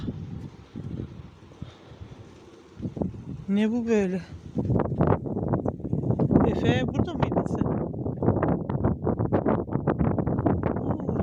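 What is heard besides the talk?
strong wind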